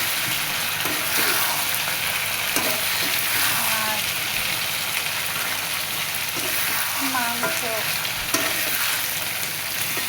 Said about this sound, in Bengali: এর ভিতরে আস্তা রসুন দিয়ে দিলাম